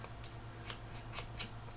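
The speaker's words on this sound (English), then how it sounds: "Just tatter them, and I use whichever scissors I have on hand." Scissors snip along paper edges to tatter them for a fairytale Christmas mini album, a series of short, crisp cutting sounds in an uneven rhythm over a faint steady hum.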